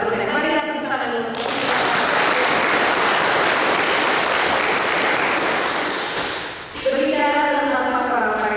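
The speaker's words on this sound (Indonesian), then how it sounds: "Mari kita tepuk tangan dulu." An audience at a Catholic youth pastoral tourism talk breaks into loud, sustained applause lasting several seconds, with a speaker's voice briefly audible just before and after.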